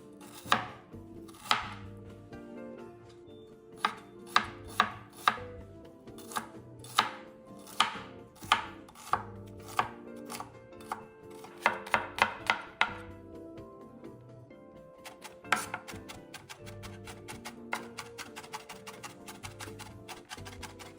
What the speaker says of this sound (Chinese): 切细后再稍微剁碎。